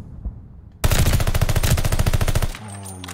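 Rapid automatic gunfire in a tactical video game shooter, a loud, close burst of evenly spaced shots lasting under two seconds, then a fading tonal ring.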